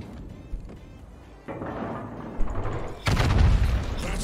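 Battleship high-explosive shell fire in a naval combat video game, heard as rumbling booms and impacts that build into a loud, dense barrage of blasts near the end.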